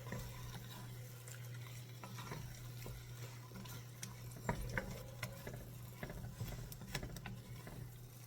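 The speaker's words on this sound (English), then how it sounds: "I'm going to give this a good mixing. Make sure everything's nicely incorporated." A spoon stirs a pot of gumbo with seasonings and bay leaves, giving faint, soft scraping and patter over a steady low hum.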